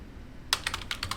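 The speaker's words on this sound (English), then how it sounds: "So I'm typing it out here." Typing on a computer keyboard during a game stream, a quick run of about a dozen light key clicks in an uneven rhythm, close and clear over low background hum, with no talking.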